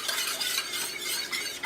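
Stirring a flour mixture with Worcestershire sauce for beef stew in a pot, a soft continuous scraping swish, close and quiet, with no talking.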